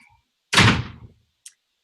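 A door is slammed shut in a quiet room: a single loud, close thud that fades quickly, followed by a faint small click.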